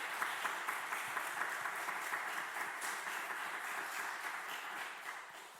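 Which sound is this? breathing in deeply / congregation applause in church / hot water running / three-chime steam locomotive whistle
congregation applause in church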